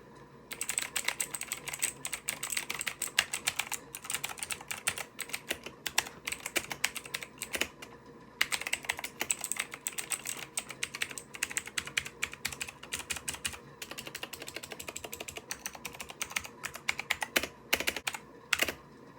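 A clicky, tactile mechanical keyboard is typed on steadily and up close, its sharp rapid clacks coming in bursts with a few short pauses and no voices.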